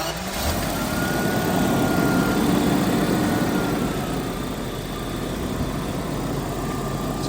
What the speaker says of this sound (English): I'm gonna start it now, so you can hear the engine and how smooth it is.